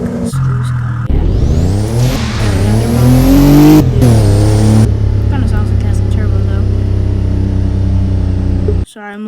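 A loud sports car engine in a video game revs hard, pitch climbing and dropping through several bursts, then settles into a steady rumbling idle before cutting off.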